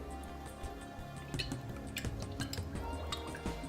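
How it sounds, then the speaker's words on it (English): Olive oil hits a hot deep pan on medium-high heat, giving a close run of small crackling ticks and drips that thickens as the pour goes on, with no talking. "be generous with the olive oil. So olive oil in."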